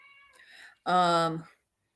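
Cat meowing close by, one drawn-out, clear meow after a softer, quieter sound at the start.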